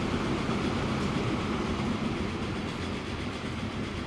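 A freight train running on a line in the video game Transport Fever 2, heard as a steady, dense rumble of rolling wagons that holds even and continuous throughout, with no voices.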